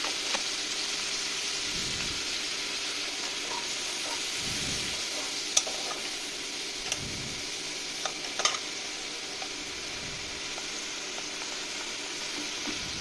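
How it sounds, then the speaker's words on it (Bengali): Ginger-garlic paste thinned with a little water sautés in a pan for a Bengali papaya, potato and prawn dish, giving a steady broad sizzle with soft scraping stirs and a few sharp ticks, close and continuous with no talk. "সেই আদা রসুন বাটাটা আমি দিয়ে দিলাম, আর দিয়ে দিলাম একটুখানি জল"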